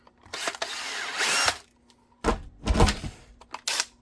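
A power drill bores holes through a holster, with several short whirring bursts and one longer run, handling knocks and clatter between them, close up and without speech.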